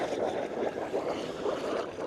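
Water gushing from a burst main beneath cracked tarmac, a continuous rushing hiss with a steady, even roar close by and no voices.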